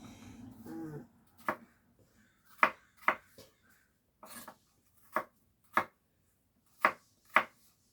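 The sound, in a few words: slicing apples with a knife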